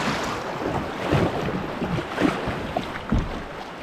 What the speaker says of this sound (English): Let me see if I can get through this little rapids